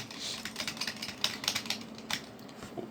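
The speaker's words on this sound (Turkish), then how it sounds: "Şu klavyeden sizi birazcık uzaklaştıralım da çok ses geliyor olabilir." Rapid keyboard typing during Minecraft Bed Wars play, close and steady, with clustered keystrokes clattering in quick irregular bursts and no voices.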